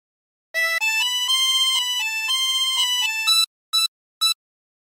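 A 24-hole tremolo harmonica plays a phrase of Bella Ciao: a run of steady, wavering reedy notes rising and falling, ending with two short separate blasts, clear and close with nothing else heard.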